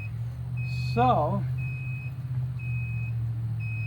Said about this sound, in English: So when it gets jammed, it's going to set off the alarm.